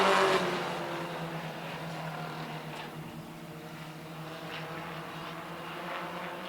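Race cars on a track in the final lap, engines droning together at a distance in a steady, sustained roar that fades slightly after an initial louder pass.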